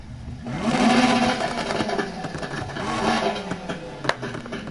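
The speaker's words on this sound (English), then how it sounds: "let's see the sound of this exhaust" Exhaust revving from a tuned street car in Need for Speed Heat, a dense, continuous engine roar rising and falling over nearly five seconds, with one sharp pop near the end.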